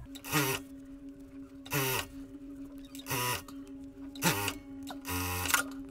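A sewing machine stitches a fabric mask in five short bursts of rapid whirring, each about half a second long, with pauses between and a steady electrical hum throughout.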